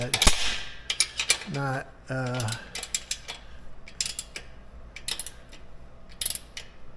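A bolt is tightened during home gym assembly on an Ultra Fuego UF-1186, with several close, sharp metallic clicks and clanks, a brief ratcheting burst near the start and someone speaking briefly between them.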